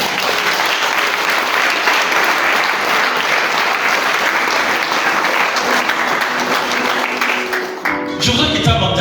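Church congregation applauding the Lord during a special worship service, with loud, sustained applause from a large crowd that continues without a break and fades only slightly near the end as the room stays noisy.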